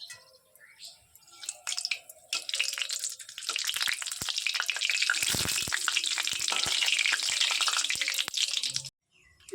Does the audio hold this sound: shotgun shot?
no